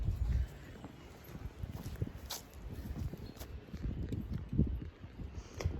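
A pony trotting up on foot, its hooves giving soft, irregular clip-clop thuds at close range over faint background noise.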